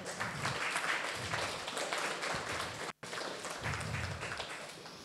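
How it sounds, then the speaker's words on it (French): Audience applause at a Le Wagon coding bootcamp demo day in Nice, honouring the graduating students: steady, dense clapping from a sizable crowd, with a brief dropout near the middle before the clapping resumes. "on peut d'ores et déjà les applaudir vraiment très fort pour tout ce beau travail"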